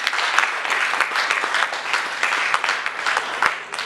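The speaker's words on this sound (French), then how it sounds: "Acclamez bien." A church congregation applauds during a service, a dense, sustained round of clapping from many hands that fills the room without pause.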